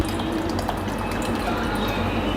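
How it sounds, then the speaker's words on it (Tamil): Water is poured steadily into pumpkin dosa batter made with rava and rice flour, giving a continuous close splashing and trickling wash with no talk. "இன்னும் கொஞ்சம் நம்ம தண்ணி சேர்த்துக்கலாம்"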